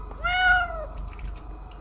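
A cat meows once in the horror game The Bathhouse, a clear rising-then-falling mew lasting under a second, heard alone over a low ambient hum.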